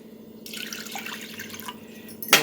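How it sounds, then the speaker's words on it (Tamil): Water pours into a pot of rinsed lentils in a home kitchen, a steady close splashing stream that runs about a second and ends with a clink of glass or metal; no voices. "இப்போ இதில் வந்து ஒரு 2 கப்பு தண்ணி ஊற்றிக்கலாம்"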